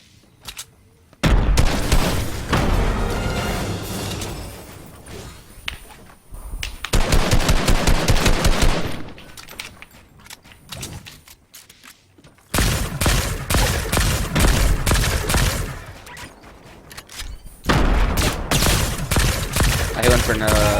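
Gunfire in a shooter video game: long, loud bursts of rapid automatic fire separated by quieter gaps, with some booming hits mixed in and voices talking over the action.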